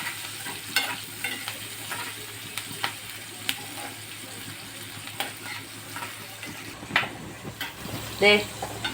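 Green chillies stir and fry gently in a pan on a low flame, giving a soft continuous sizzle with repeated scraping strokes and a louder clatter near the end.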